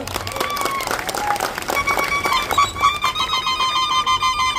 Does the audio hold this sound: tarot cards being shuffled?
no